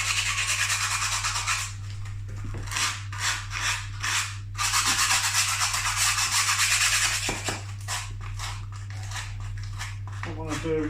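Repeated rough scraping strokes of hand sanding filler on a wall, rhythmic back-and-forth bursts with short pauses, close and fairly loud over a steady low hum.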